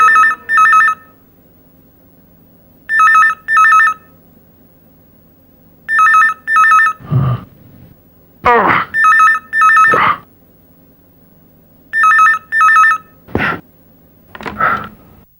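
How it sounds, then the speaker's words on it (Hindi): Telephone ringing in repeated double bursts of a bright electronic bell, loud and close, with a few thuds and short sounds between rings. "बहुत देर से ट्राई कर रहा हूँ, फोन उठा क्यों नहीं रहे?"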